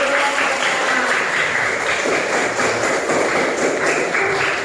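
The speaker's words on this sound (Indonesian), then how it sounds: "Dan kasih tepuk tangan dulu." Students in a classroom during an Islamic jurisprudence lesson clap together, a busy patter of many hands with scattered taps and thumps, steady and fairly loud throughout with no talk.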